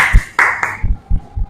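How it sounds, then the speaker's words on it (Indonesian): A few sharp hand claps close by, then several dull low thumps. "tepuk tangan"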